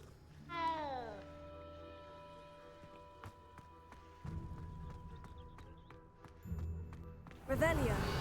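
In Hogwarts Legacy, a cat gives a short rising meow while being petted, followed by soft game ambience with sustained tones and light tapping, and a second, louder meow-like cry at the end.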